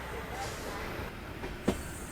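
An Indian passenger express train with new LHB coaches changes tracks near Bilaspur junction, giving a steady rumble of rolling wheels with a single sharp clack near the end.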